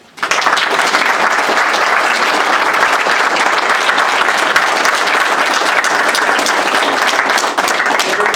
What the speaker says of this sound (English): Give them a round of applause, Ron.